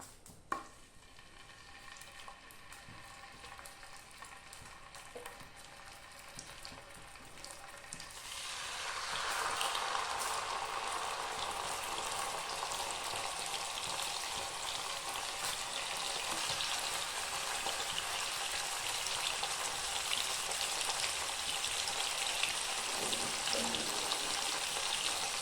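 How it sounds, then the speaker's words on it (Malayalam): Chicken pieces frying in oil: a quiet low sizzle swells sharply as the pieces go in, then holds as a loud, steady close crackling hiss, alone without speech. "അതിനുശേഷം അതിലേക്ക് ചിക്കൻ്റെ പീസുകൾ ഓരോന്നായിട്ട് അടക്കും."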